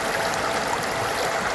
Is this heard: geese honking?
no